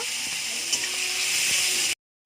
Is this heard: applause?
no